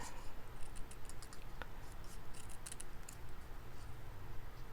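Scissors cut through a paper card in close, quiet snips, a series of light crisp clicks over a soft hiss, with no one talking.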